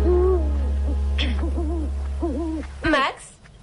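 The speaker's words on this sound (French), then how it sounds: "Une chouette?" An owl, found trapped in a horse stable, gives a series of wavering hoots, clear and close, fading off before a sharp final screech.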